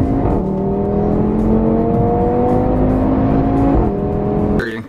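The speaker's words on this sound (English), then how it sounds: "this thing just pulls away so fast, although it has the same engine, yet so powerful" An Audi TT RS accelerates hard, its engine note climbing steadily in a loud, close, sustained drone for several seconds before a quick gear change and drop at the end.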